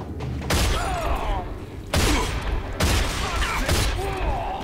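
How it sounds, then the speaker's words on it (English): An enemy blind-firing in the RAGE video game lets off loud bursts of gunfire in several heavy volleys, each one sustained and booming with some clanking mechanism noise mixed in. "He's just blind firing."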